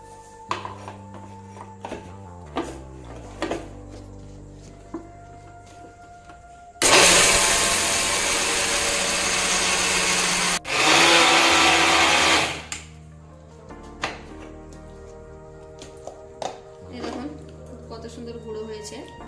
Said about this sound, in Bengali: এই আতপ চালটা একটা মিক্সারের জারে ভালোভাবে গুঁড়ো করে নেব